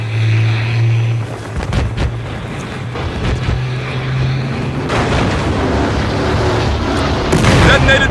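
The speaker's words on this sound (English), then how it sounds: "Detonated the charge!" Explosive charge detonating in the shooter game Battlefield Hardline, a loud booming blast with a low rumble amid continuous gunfire and action noise, fairly near and sustained over several seconds.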